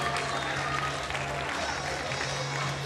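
A theatre audience at an evening show in Cortona applauds performers taking their bow, a loud, dense, continuous roar of clapping with crowd noise and a low steady hum beneath.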